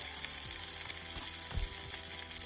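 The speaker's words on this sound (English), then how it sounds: "and now I render the beef fat" Beef fat renders in a skillet over high heat, a steady dense sizzle and hiss with small popping crackles and a faint mechanical ticking underneath, close and continuous with no talking.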